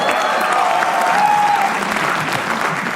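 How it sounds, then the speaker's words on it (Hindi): Loud, dense applause from a live comedy roast audience welcoming the next performer, even clapping with some whoops and cheers for a few seconds. "तालियां इनके लिए प्लीज"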